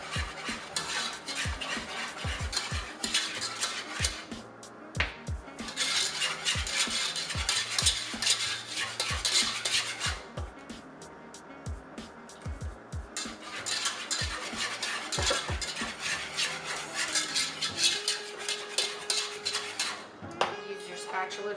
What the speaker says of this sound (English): Add a little bit, whisk it in.